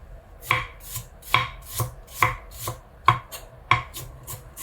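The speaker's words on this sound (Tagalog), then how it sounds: "So maghihiwa tayo ngayon ng sibuyas." A knife chops onions on a cutting board for a shrimp and mung bean dish, with sharp, evenly spaced thuds landing about every half second, close and loud, with no voices.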